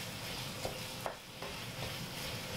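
Minced meat seasoned with Italian herbs cooks in a pan for a halal bolognese, a soft, low sizzle with a few light utensil taps and scrapes, faint and even throughout.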